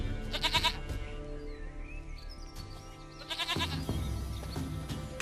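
A goat in The Witcher 3 gives two loud, quavering bleats, one early and one later, over a low hum of in-game ambience and music.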